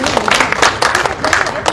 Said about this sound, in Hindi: एक बार जोरदार तालियां हमारी मेहमान शायरा के लिए